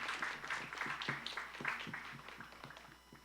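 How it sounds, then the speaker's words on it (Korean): Participants in a 2017 emerging infectious disease crisis response drill at Chungnam National University applaud as the exercise ends, a moderately loud patter of hands with a few faint voices mixed in, fading slightly toward the end. "함께해 주신 모든 분들께 수고의 박수를 부탁드리겠습니다"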